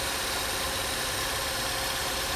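A worn 2005 Chevrolet Cavalier junkyard car idles steadily after start-up, a smooth, even engine rumble with broadband mechanical noise, close and continuous.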